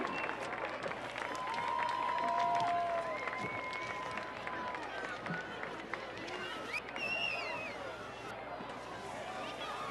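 Outdoor applause from a crowd at a 2012 Chardon youth football event in Ohio, steady moderate clapping and cheering spread across a field, with a public-address voice and crowd chatter mixed in.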